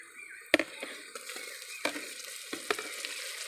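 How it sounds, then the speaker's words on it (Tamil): Onions being sautéed in a pan, a soft continuous sizzle broken by several sharp scrapes and knocks of the spoon as it stirs, close and unaccompanied by talk. "நல்லா கிண்டி விட்டுக்கலாம் வெங்காயம் நல்லா வதங்கிட்டு தக்காளி போட்டுக்கலாம்"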